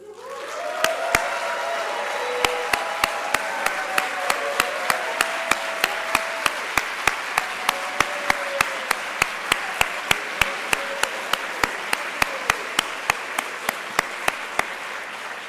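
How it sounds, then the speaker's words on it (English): A graduation audience applauding, a steady dense wash of clapping lasting throughout with sharp, evenly spaced loud claps standing out in a regular rhythm above the crowd. "please stand up so we can give you a proper applause"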